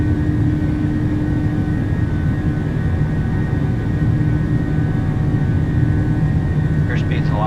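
Jet engines on a PMDG 737-800 spool up to takeoff power in a flight simulator game, a loud steady roaring hum with tonal whine that runs unbroken through the clip.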